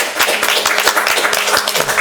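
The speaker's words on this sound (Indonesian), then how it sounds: "tepuk tangan guys buat Ocean kita" Brief burst of audience clapping for OceanKita at an interview session, dense overlapping hand claps, close and fairly loud, lasting a couple of seconds with no talking over it.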